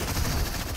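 Gunshots in the Fortnite game rattle off in a quick, continuous burst, loud and close, across a very short moment.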